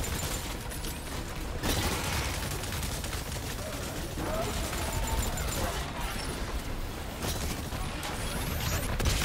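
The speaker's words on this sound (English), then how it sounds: "Yeah, let's keep shooting this dinosaur." Video game gunfire in Exoprimal blasts steadily at a large dinosaur, a dense, loud, continuous rattle of shots with a few heavier hits, with no voices.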